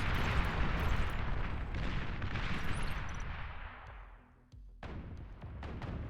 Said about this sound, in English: Janus shots come in every now and again